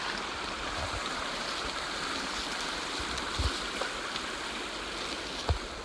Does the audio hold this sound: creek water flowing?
yes